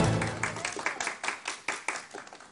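A small group claps after a correct answer at an intellectual quiz contest, a brisk run of uneven hand claps lasting a couple of seconds with no talk.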